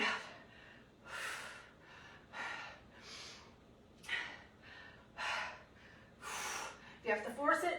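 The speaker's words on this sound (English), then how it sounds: "Breathe out." Heavy breathing during a shoulder workout: a series of forceful exhales and sharp inhales in an uneven rhythm, close and breathy, with a few gasping puffs near the end.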